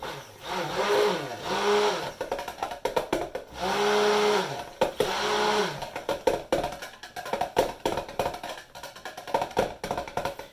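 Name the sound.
stick blender mixing lotion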